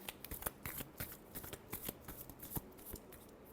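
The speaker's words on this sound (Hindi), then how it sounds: "Last shuffle." Tarot cards are shuffled by hand, a quick run of crisp riffling flutters and snaps in an uneven rhythm, close and fairly quiet, with no talking.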